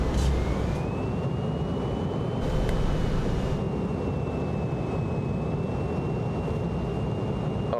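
A steady jet roar from an airliner on final approach with the speed brake extended in Microsoft Flight Simulator, continuous and unbroken, with a faint thin whine running above it.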